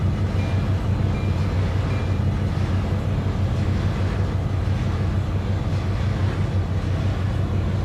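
Train running on track in the video game Trainz 2022: a steady, loud low rumble of wheels and engine rolling along the rails, unbroken for the whole stretch.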